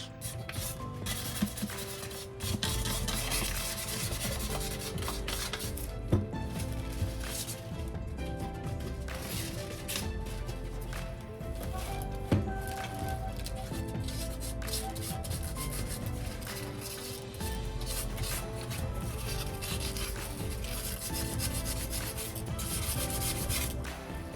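Steady, continuous abrasive rubbing of sanding excess paint off an angel statue, close and fairly loud, with a few sharper scrapes; no speech.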